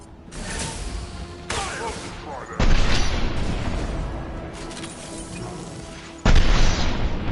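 A heavy weapon fires in the video game Mass Effect 2 with dense, roaring blasts that fill the space. Two sharp, loud onsets rise out of a constant noisy barrage of combat.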